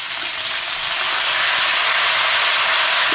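Soy sauce pours into a hot wok of shrimp, giving a loud, steady hiss of sizzling that runs unbroken from start to finish with no voices.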